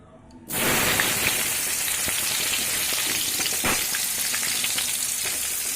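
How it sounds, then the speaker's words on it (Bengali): Potatoes frying in hot oil in a pan, bursting into loud, steady sizzling after a short quiet start and crackling on without pause. "এবার আমি আলুগুলো ভেজে নেব।"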